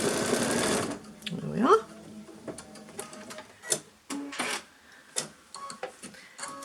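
A sewing machine stitches downward in a dense, rapid burst of about a second, close and loud. Then comes a short spoken remark, followed by scattered soft clicks and handling noises.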